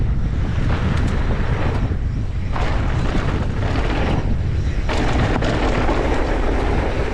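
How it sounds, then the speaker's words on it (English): Loud, continuous headwind buffets the microphone of a mountain biker riding a downhill trail, a rough roaring rush with surging gusts that never lets up. "Bit of a headwind."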